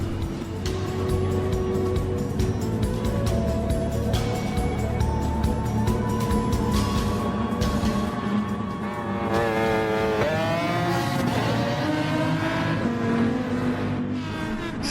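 Race cars launching off the start line in a Gran Turismo Sport race at the Red Bull Ring, a Gulf McLaren F1 GTR among Aston Martins and a Ferrari, engines roaring loudly and continuously, revs climbing and shifting as the pack accelerates together.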